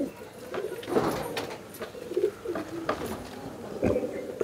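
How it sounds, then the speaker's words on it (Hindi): Pigeons coo in a loft of high-flying Giribaj and Madrasi birds: soft, low, throaty coos repeat in irregular bursts at close range, with a faint background murmur. "जयंतोदय के पास जो सब कबूतर ना सब अच्छा अच्छा कलेक्शन करके रखे हैं"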